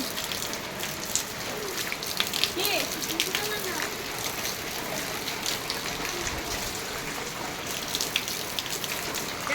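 Steady rain pours down in a continuous hiss and patter, with a voice faintly audible beneath the downpour.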